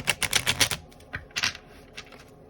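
Tarot cards being shuffled by hand, a close burst of rapid riffling flicks followed by a few softer separate snaps, with no talk over it.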